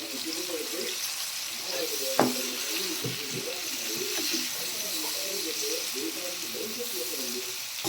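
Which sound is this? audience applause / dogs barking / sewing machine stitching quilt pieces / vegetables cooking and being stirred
vegetables cooking and being stirred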